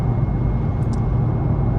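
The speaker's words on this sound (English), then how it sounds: "The road noise is loud in this one" Steady, loud low-frequency road roar fills the cabin of a BMW M2 while driving, a constant broadband rumble with no break.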